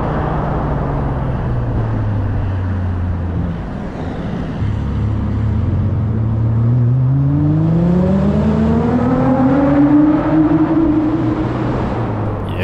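A Japanese sports car drives along, its engine droning steadily and then rising in pitch as it accelerates and revs, with whining transmission noise layered on top, loud and close with no talk.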